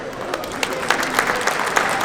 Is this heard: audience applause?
yes